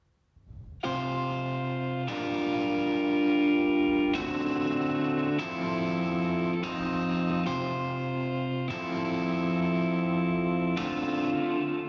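Electric guitar played through a Logic guitar rig with EQ trimming the highs, sustained effected chords changing every second or two, with heavy chorus, echo and reverb, playing alone.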